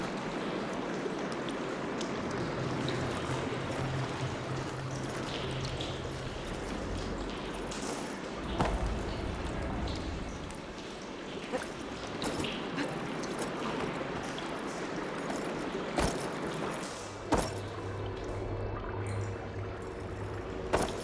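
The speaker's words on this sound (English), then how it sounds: "Sounds like the water's switched." Water rushing and gurgling through pipes inside a valve-controlled water system in the video game Horizon Forbidden West, a steady broadband flow lasting throughout with a few clanks and thuds over it and a low hum now and then.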